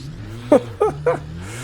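Race car engine in a sim racing video game, revving hard in third gear in three quick rising blips over a low steady drone, loud and close with no voice.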